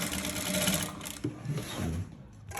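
Sewing machine stitching a trouser zipper fly, a steady close mechanical whir that pauses briefly and then resumes, with no talk.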